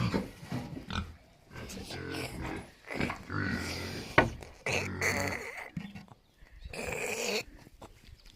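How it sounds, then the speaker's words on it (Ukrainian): Piglets in a village pen grunt and snuffle in short, close bursts with pauses between, with voices also present. "Що там роблять поросятки?"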